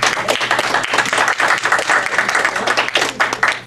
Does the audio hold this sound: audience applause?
yes